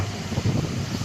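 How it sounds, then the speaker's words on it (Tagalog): Gusty wind buffets the microphone on the rooftop of Gateway Cubao in low, uneven rumbling bursts, loud and close, with no voices. "Mahangin dito."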